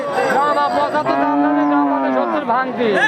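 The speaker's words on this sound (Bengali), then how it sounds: "কুরাত জাতের একটা গরু ডবল বডির" A loud, close cow moo from a large, heavy-bodied cow at a cattle market in Chougachha, long and drawn-out, rising and falling in pitch for about three seconds.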